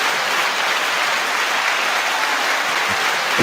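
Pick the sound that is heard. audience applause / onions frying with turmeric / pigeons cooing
audience applause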